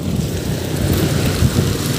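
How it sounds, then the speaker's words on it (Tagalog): Heavy rain pours during a signal number 4 typhoon on a street in Caloocan, a loud, dense, steady roar of rainfall and wind that fills the whole clip with no voices. "Uy, lakas ng ulan."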